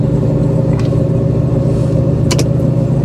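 Katech-built Chevrolet Corvette C7 Z06 V8 idling steadily while warming up with cold oil, a loud, close, even rumble with no revving and a couple of faint clicks.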